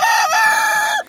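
A rooster crows once, loud and close, a single drawn-out call lasting about a second before cutting off, heard alone in a farmyard setting.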